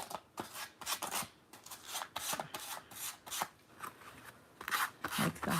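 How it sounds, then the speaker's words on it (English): A small sanding disc rubs along the edges of a cardboard junk-journal tag cut from a box, giving repeated short dry scratchy strokes at a steady pace, close and moderately loud. "Then I am grabbing my little sanding disc, and I'm just going to sand"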